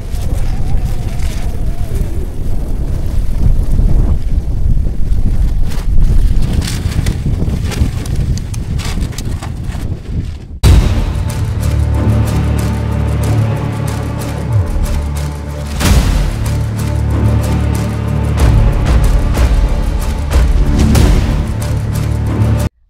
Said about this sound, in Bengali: হাওয়াটা উড়িয়ে নিয়ে চলে যাবে।